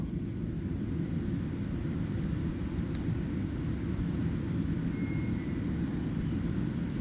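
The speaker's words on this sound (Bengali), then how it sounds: "রানওয়ে দিয়ে বিমানেই উড়াল দিল মালয়েশিয়ার উদ্দেশ্যে" A passenger jet takes off from a runway at night in Sri Lanka, bound for Malaysia, heard as a steady, loud broadband engine roar that holds level throughout with no talk.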